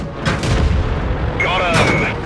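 A tank cannon in a video game fires on enemy armor, with two heavy booming shots and rumbling impacts close up. A faint voice sits low in the mix.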